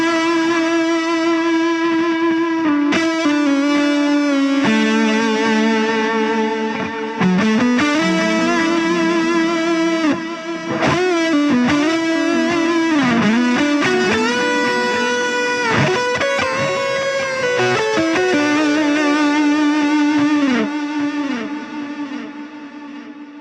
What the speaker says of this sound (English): Such a lovely spread of delay and also reverb on that setting as well